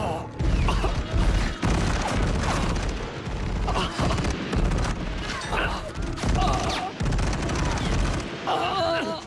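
Dense video game firefight with bursts of rifle and machine-gun fire, booming impacts and crashing debris, loud and continuous throughout, with voices occasionally shouting beneath the shooting.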